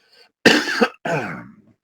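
Two harsh coughs close to the mic, the first sharp and short, the second rougher and drawn out, with a brief pause between.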